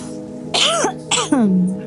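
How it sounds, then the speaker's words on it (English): A few short throaty coughs and throat-clearing sounds, close by and fairly loud, with voiced vocal tones mixed in. "Little cough."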